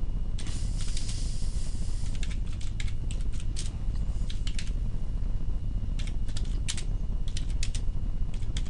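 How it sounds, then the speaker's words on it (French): Rapid typing on a computer keyboard: bursts of crisp, close key clicks in irregular clusters with short pauses, over a faint background hiss and no talking. "taper le plus rapidement possible sur votre clavier le texte qui est affiché ici"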